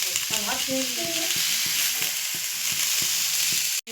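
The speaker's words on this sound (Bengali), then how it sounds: "এখানে আমার সুন্দর সবজি কষা হচ্ছে, শিম, ওলকপি, আলু দিয়ে" Beans, kohlrabi and potato sauté in a pan with a constant loud sizzle, while a utensil scrapes and stirs in regular strokes, close up and without talk.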